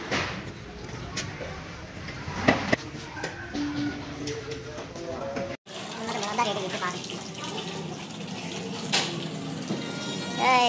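Running water splashing during interior cleaning of a dirty car floor, a hissing, gushing stream that starts and stops in bursts, fairly close, with intermittent clanks and handling noises.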